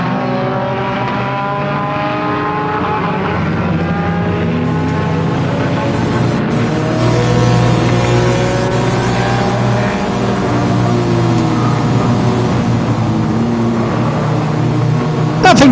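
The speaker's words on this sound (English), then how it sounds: "The race drivers are racing hard." Stock cars racing hard in the Halloween Enduro 100 at Flamboro Speedway: a loud, continuous roar of several engines rising and falling as the pack passes, with no clear voices over the noise.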